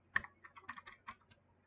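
Quick, uneven keystrokes on a computer keyboard, about a dozen close, crisp clicks in a short burst of typing, with no voices.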